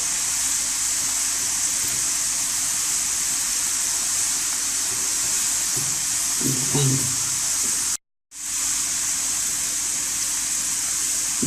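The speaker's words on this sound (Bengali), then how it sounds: "গাজরগুলো ভেজে নেব।" Carrots frying in oil give a steady, bright hiss that holds evenly throughout, with a brief muffled clunk partway and a short dropout before the sizzle resumes.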